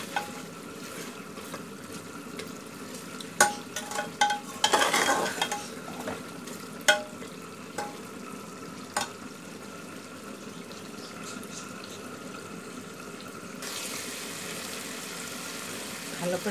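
Duck meat sautés in a pan with a steady low sizzle, while a utensil scrapes and knocks against the pan in a few clustered strokes early on, then the frying carries on alone.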